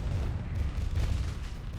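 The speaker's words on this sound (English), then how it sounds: "Look at the explosions." Rapid, dense booms and blasts of a space battle in the game Starsector, a steady low rumble of overlapping explosions with no pauses.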